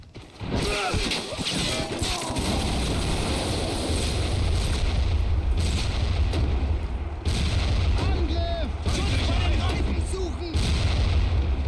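Tank cannon fire in the Army Men war video game: repeated heavy booming blasts over constant battle din, with brief voices mixed in.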